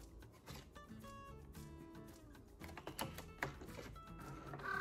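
A Cricut Joy cutting machine loads and aligns a cardstock mat, giving quiet whirring motor runs and small clicks, with a brief sharp clack near the end.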